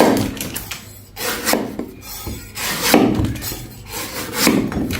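A knife rubs and scrapes against a coconut in repeated close rasping strokes, a gritty, woody scraping with an uneven rhythm and no voices.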